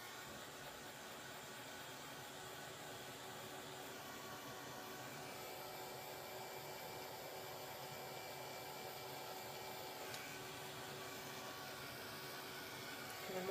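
A heat tool blows steadily at close range, drying a page of a scrapbook art journal, a continuous fairly quiet whir with no pauses and no talking.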